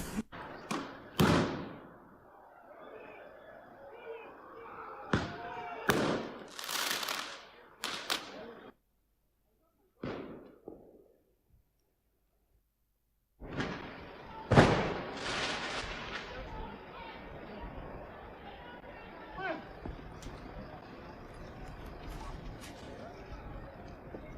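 Fireworks thrown into a street in England on bonfire night burst in a series of loud, sharp bangs and thuds at irregular intervals, with brief pauses between volleys and a noisy crowd and shouting voices in the background.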